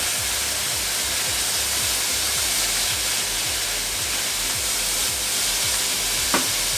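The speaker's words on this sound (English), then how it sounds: "Give that a really good stir." Cumin, coriander, salt and pepper stirred in a hot frying pan, giving a steady broad sizzle with a regular scraping rhythm of the spoon throughout, close and fairly loud, with no talking.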